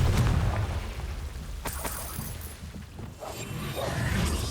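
A Confringo fire spell blasts in Hogwarts Legacy, a burst of booming explosions with crackling debris, loud and close, repeated over a low rumbling game backdrop.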